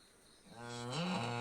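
A young calf beside its mother cow on a village farm lets out a single rising, drawn-out moo, close and clear against a quiet background.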